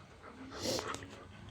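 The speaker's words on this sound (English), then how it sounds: "He is my loyal guard dog." A guard dog pants and whimpers close by, a soft breathy burst that peaks midway and then trails off over a low background.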